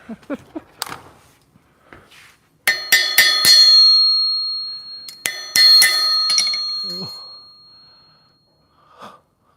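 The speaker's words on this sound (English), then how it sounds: "Hit this with the hammer." Hammer blows on a metal taillight part for a custom 1968 VW, a series of sharp ringing metallic strikes with lingering tones, followed by voices talking nearby.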